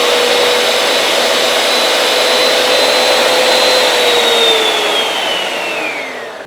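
Kenwood bowl stand mixer motor at turbo speed, a loud steady whine running several seconds with pitch slowly falling as it winds down near the end.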